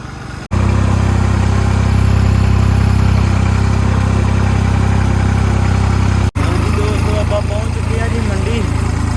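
A loud, steady tractor engine idles close by with a low, even rumble, broken by two brief cuts where the sound drops out.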